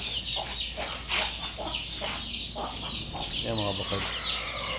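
Young chicks cheep repeatedly around a cage with metal bars, high chirps close by and mixed with clucking hens, while a person talks over them.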